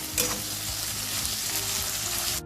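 Finely sliced onions fry in hot oil with spluttered cumin in a pan for Bengali aloo posto, a steady loud sizzle with occasional stirring scrapes throughout.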